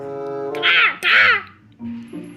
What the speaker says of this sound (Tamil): இங்கே நம்ம கன்னை வச்சு இந்த காக்காவை ஃபஸ்ட்டு போட்டு தள்ளுவோம்